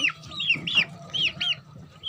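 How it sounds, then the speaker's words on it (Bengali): Young chickens cluck and peep repeatedly while pecking at kelakuch leaves and grass given to them at midday. The short chirping calls come close and loud in quick bursts over a soft, steady background murmur. "আমার মুরগির বাচ্চাগুলো খুব পছন্দ করে খায়"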